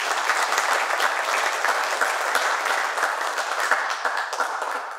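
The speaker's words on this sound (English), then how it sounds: "yes, give her a round of applause," Listeners at a Woodstock anniversary panel discussion applaud Rachel with sustained, even clapping from a crowd, loud and continuous throughout with no voices over it.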